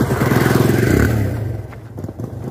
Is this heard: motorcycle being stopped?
yes